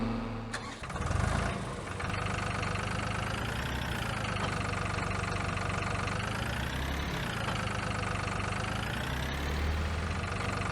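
A small Same compact tractor engine in Farming Simulator 22 starts up and settles into a steady, loud idle that holds close and constant with no talk over it.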